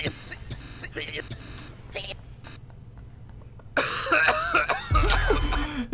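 A few sharp coughs and throat clearing, then a louder burst of harsh hacking near the end, with background chatter.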